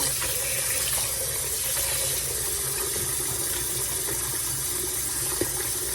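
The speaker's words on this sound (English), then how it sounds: "Keep the water coming." Tap water runs steadily into a sink of ice water to chill freshly harvested fall vegetables, a continuous even gush with a faint low engine-like hum beneath.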